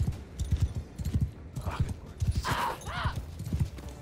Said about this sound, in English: World's crappiest horse.